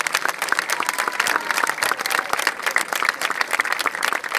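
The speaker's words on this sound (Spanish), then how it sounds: "el aplauso para ellos." Steady, dense audience applause for dancers at the Mataderos fair, a continuous wash of clapping with no pauses, fairly close and sustained throughout.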